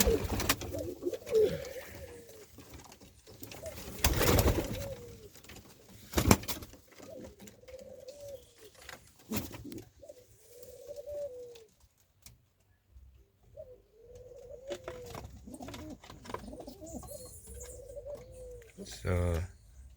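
Capuchine pigeons cooing in a Jamaican breeding loft, a series of soft, rolling coos repeated every second or two, close by, with clatter and wing noise between them.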